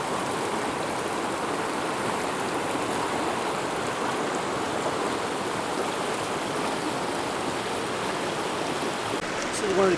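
A mountain stream flows beside a backcountry campsite in Kings Canyon on the Rae Lakes Loop, a steady broadband rush of water that holds even and close throughout with no break. A brief disturbance is heard near the end.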